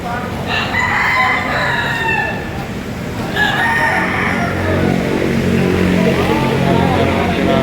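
Roosters crow at the Padre Garcia chicken market in Batangas, two long loud crows in succession over a steady crowd murmur, with voices talking nearby among the stalls.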